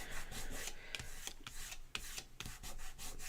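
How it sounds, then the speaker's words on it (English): A finger rubs leftover adhesive off a strip of strong tape, giving a run of close, soft, dry scuffing strokes in a steady back-and-forth rhythm, heard alone with no talking. "Get the extra adhesive off. It just rubs off with your finger."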